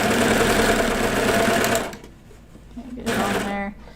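Close and loud, a sewing machine whirs steadily along the side seam of a child's pajama bottoms, stops, then starts again briefly while a short voice sounds near the end.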